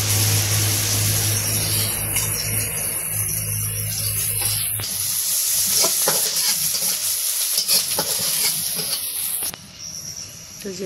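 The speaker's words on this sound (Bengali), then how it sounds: "তো এখন পেঁয়াজ কাঁচামরিচ দিয়ে দিতেছে।" Onion and green chilies fry in oil left over from frying fish, giving a loud, continuous sizzle and hiss close by, with stirring scrapes joining in partway through.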